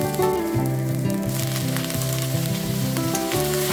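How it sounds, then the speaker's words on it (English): Shredded potatoes stir-fry over medium-high heat with scallions and spices, a steady sizzle and crackle sitting beneath prominent background music that carries on throughout. "we'll stir-fry shredded potatoes"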